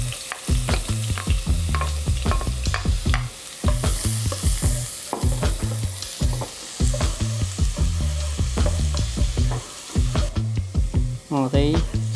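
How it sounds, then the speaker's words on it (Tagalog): Garlic sautéing in a little hot oil in a pan for chicken tinola gives a steady sizzle with stirring scrapes, running beneath a loud, continuous tonal backdrop of voice or music. "So magpapainit tayo ng kawali, lagyan natin ng konting mantika. Gisi tayo ng bawang."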